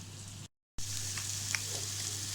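Sliced large onions hit hot oil with coriander powder in a pan for a Kerala crab curry, a steady close sizzle with a brief silent break, then continuous frying hiss with faint stirring clicks.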